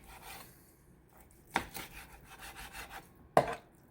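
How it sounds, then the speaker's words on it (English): A knife carving through a roasted chicken cooked in cast iron, with two sharp distinct cuts against a board amid quieter scraping and rubbing. "For the person that likes the breast meat, we can actually cut down the meat."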